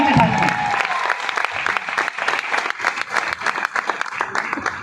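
Enthusiastic audience applause at a motivational event in India, dense and loud with rapid overlapping claps, sustained evenly throughout and slightly swelling at the close.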